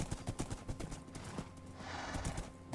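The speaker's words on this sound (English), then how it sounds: "Coco Shine will be leading the horses out to the starting gate." Horses' hooves clip-clopping in a Minecraft horse race as the horses are led to the starting gate, a quick irregular patter of hoof steps, fairly faint over a soft in-game background.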